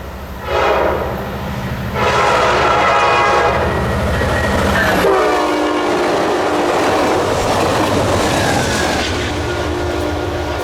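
Piedmont passenger train hauled by a Triclops EMD locomotive passing close and loud, with repeated horn blasts in the opening seconds, then heavy rolling rumble and wheel clatter as the cars go by.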